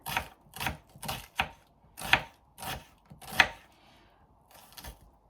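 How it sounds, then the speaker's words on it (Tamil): A knife thinly slicing onions on a board, giving about nine distinct, evenly paced chops with short pauses in between, close and fairly clear, in a home kitchen. "இதை எடுத்து வச்சுட்டு தின்னாக ஸ்லைஸ் பண்ணிக்கலாம் ஆனியன்ஸை"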